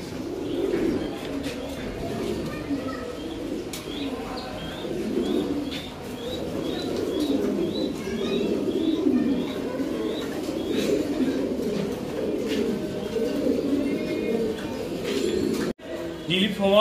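Pigeons at a large farm housing more than 200 birds coo and chirp in a steady, repeating pattern over a dense, low murmur of flock noise.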